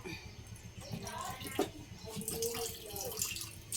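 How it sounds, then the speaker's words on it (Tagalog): Water pours and splashes briefly into a pot or pan while making shrimp okoy fritters, with small clinks and kitchen handling noises around it. "Laligan ko lang ng konting tubig."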